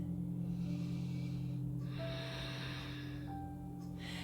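Soft, close breathing during a yoga side plank: a few long, airy breaths drawn in and let out over a faint, low room hum, with no talk.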